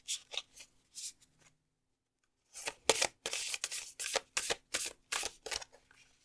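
Tarot cards handled and drawn from a deck, a series of crisp papery flicks, slides and snaps close by, a few scattered at first, then after a short pause a quicker run of rhythmic shuffling bursts.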